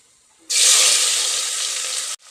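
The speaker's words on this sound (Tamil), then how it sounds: "இப்போ அதை நல்லா வதக்கிக்கலாம்" Three sliced large onions, two green chilies and curry leaves dropped into hot oil, for a mushroom vegetable biryani: a sudden, loud, bright sizzle that holds steady for nearly two seconds, then cuts off abruptly.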